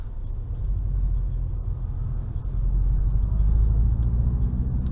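Car on an interstate braking exercise making a final speed run, a steady low road rumble and engine drone that swells slightly louder partway through, with no talk.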